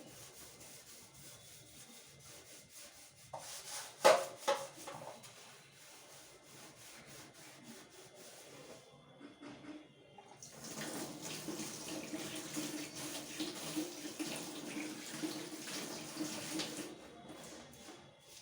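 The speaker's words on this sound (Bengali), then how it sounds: "আমি এখন বেসিনটা ওই জন্য মেজে রাখছি" Someone scrubs a kitchen sink basin by hand, with rhythmic rubbing and scraping at close range, followed by a steady stream of running tap water that continues to the end, with no talking.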